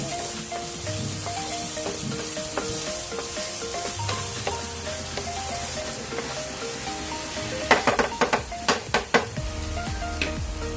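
Pork frying in its own rendered fat and a little oil in a pan, with a constant sizzle under stirring, and a quick run of sharp utensil clinks against the pan near the end.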